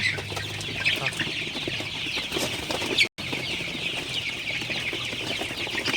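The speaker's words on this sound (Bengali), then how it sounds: "আমার সোনালি মুরগিগুলো" A flock of Sonali chickens clucks and chatters continuously nearby, overlapping soft calls with occasional wing flutters, briefly interrupted by a short gap.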